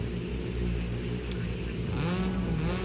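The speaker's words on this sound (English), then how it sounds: "Engines are revving." Race car engines rev together at the start of a Rally Fighters race, a dense, steady engine roar with a rising whine toward the end.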